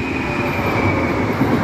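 A Cegielski Intercity express train running from Poznań Główny to Kraków Główny rushes past close by, a steady loud rolling roar with a sustained high wheel whine, no voices over it.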